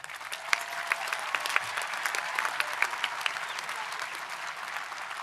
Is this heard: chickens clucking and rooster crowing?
no